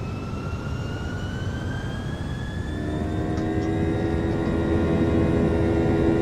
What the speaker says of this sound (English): we can go ahead and take off